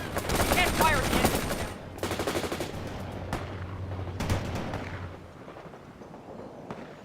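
Bursts of automatic and single-shot gunfire crackle through a World in Conflict battle, loud and dense at first with sharp reports scattered across the following seconds, thinning toward the end.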